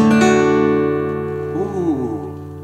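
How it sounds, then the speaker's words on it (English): A single guitar chord strummed once, ringing out loud and close and slowly fading with its tones sustained, with a faint sliding tone near the end. "I can also use more than one of my fingers to play what's called a chord,"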